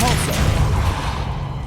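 A Depulso spell hits in Hogwarts Legacy as a loud, booming impact with a short whooshing onset, followed by a sustained heavy rumble that gradually thins and fades over under two seconds.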